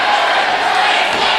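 A wrestling crowd at the Farm Show Complex chants loudly in unison, a steady roar of many voices filling the arena.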